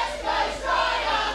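A wrestling crowd cheers and roars in a broad, swelling wave of many voices, loud and sustained, rising again near the end.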